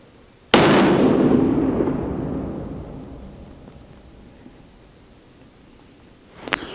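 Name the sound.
Ruger M77 rifle gunshot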